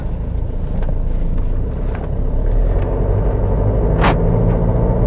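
A used Mercedes C-Class estate's engine rumbles steadily from inside the cabin while driving, a low continuous drone with road noise and one brief mid-pitched rise near the end; no one speaks.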